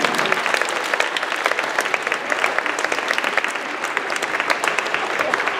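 Lively applause from a school assembly audience, close, crackling clapping with sharp individual claps standing out, steady for several seconds.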